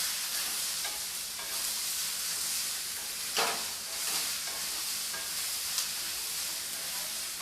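Mixed vegetables and sambar onions sautéing in a pan, a dense, even hissing sizzle that fills the whole stretch, with a couple of brief stirring scrapes, close and steady, no speech.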